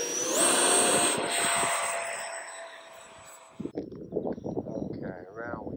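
An RC model airplane with an airfoil-upgraded wing makes a low-throttle pass, its thin whine steady and strongest early, then fading as it moves off while a person talks near the microphone.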